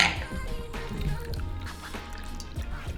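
Liquid olive juice drink poured from a leaky shaker, wet dripping and splashing close up for a few seconds with no talk.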